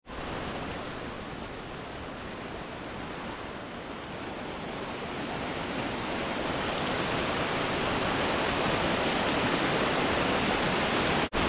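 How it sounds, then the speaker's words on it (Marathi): A strong monsoon river current rushes at a Konkan fishing spot, a loud continuous roar that swells slightly louder toward the end, with no voices over it. "पाण्याचा मोठा प्रवाह आहे या ठिकाणी"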